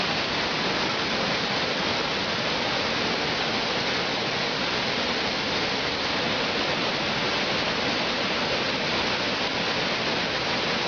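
A rushing mountain stream flows under a bridge at Zero, making a steady, loud, unbroken roar of water throughout.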